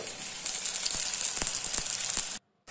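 Fig seed fritters frying in hot oil, a steady close sizzle with a few soft pops and crackles throughout, cutting off abruptly near the end.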